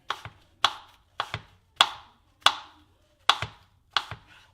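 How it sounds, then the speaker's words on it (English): A knife slices a red apple very finely on a board, making seven crisp, evenly spaced cutting knocks that sound close and clear. "we're going to take and cut this up in very fine slices"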